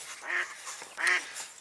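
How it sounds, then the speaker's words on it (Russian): A live decoy duck set out for a hunt quacks nearby in two loud raspy bursts, followed by a softer third call. "высадил в другом месте подсадную, она начала крякать"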